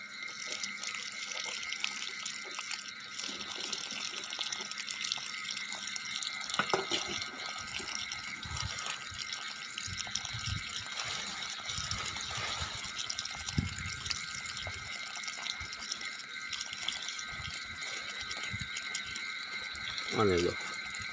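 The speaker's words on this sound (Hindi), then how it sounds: "ये दूसरी बार पानी निकाल रहा है" Water flowing out a second time from a gandhak (sulfur) purification setup, a steady wet trickle and gush running throughout at moderate level, with people talking over it.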